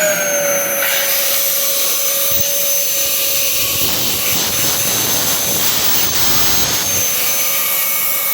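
A Dyson DC07 upright vacuum cleaner runs loud and close, a constant high-pitched whine and rushing roar holding steady throughout, with a few faint knocks and shifts in tone as it is handled.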